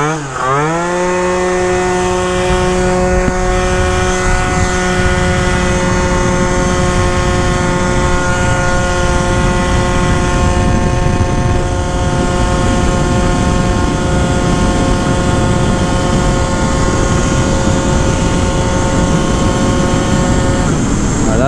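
A Phantom F12 scooter engine fitted with a Stage6 MK2 kit and Yasuni C16 exhaust, carb loading up badly, is revved at full throttle: a loud, close, buzzing two-stroke whine climbs quickly, then holds a steady high-pitched drone.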